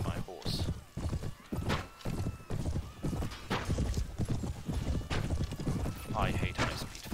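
Horses neigh and hooves clip-clop through a fast, chaotic battle in Mount & Blade, with whinnies cutting through repeated thuds and clashes while someone talks over them.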